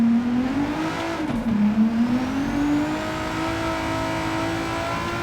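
An engine-swapped van on racing soft tires revs hard in Gran Turismo 7, a loud, steady engine tone rising and falling through a corner with continuous whine, no talking.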